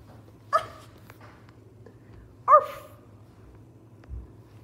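A young puppy gives two short, sharp yips or whimpers about two seconds apart, followed by a fainter sound, over a steady low hum in a quiet room.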